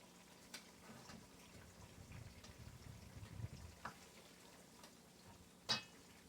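Sausages fry in oil in a pan, a faint, quiet sizzle with a few soft clinks and one sharper utensil knock near the end; no talk.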